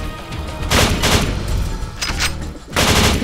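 Automatic gunfire on a training level of the video game Kill Switch, loud bursts of rapid shots in several clusters with short gaps between, no talking.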